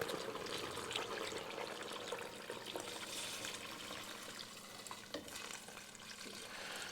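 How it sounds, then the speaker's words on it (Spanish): Water poured into a pot over seasoned meat for Andalusian-style carne mechada, a steady close splashing and gurgling stream with a faint sizzle, continuing for several seconds without talk. "Nos queda que añadir el agua hasta más o menos cubrir"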